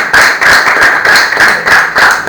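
A church congregation at an evangelical service claps in loud, rhythmic unison, steady beats repeating roughly three times a second, close and strong throughout.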